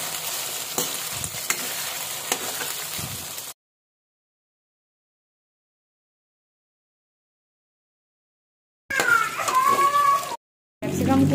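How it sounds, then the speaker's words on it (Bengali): Soya chunks hiss and sizzle in a well-heated pan, a dense frying crackle that cuts out for several seconds before short bursts return. "সেটা ভালো মতো গরম করে নিয়েছি। এর মধ্যে সয়া চাংগুলো ছেড়ে দিই।"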